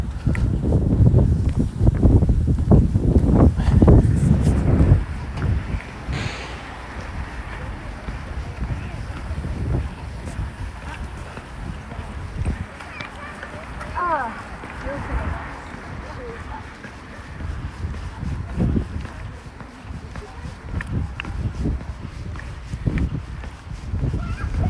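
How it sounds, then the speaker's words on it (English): Strong gusting wind buffets an outdoor microphone with a loud low rumble that eases after the first few seconds and then keeps blowing unevenly underneath. "It's super windy right now, so I'm sure that I cannot be heard."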